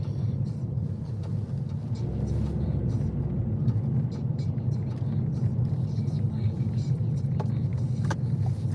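A car driving on an Ontario road, a steady low rumble of engine and tires holding for the whole stretch, with people talking inside the car over it.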